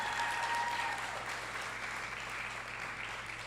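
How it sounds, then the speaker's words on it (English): A graduation ceremony audience applauds, a dense wash of many hands clapping that holds steady and fades slightly toward the end, with a low background hum. "do you think that they deserve a bigger round of applause for that?"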